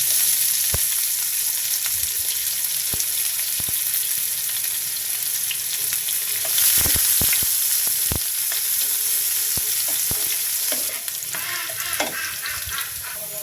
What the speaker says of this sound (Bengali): এক সাইডে একটু জিরা দিয়ে দিচ্ছি, পেঁয়াজ দিয়ে দেবো।